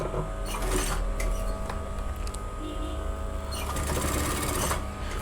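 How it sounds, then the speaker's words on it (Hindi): A sewing machine stitches along a suit neckline stiffened with buckram, running in close, rapid mechanical bursts that pause briefly in between. "इसे हम इस तरह से करते हुए यहाँ पर नोक की सिलाई लगा लेंगे।"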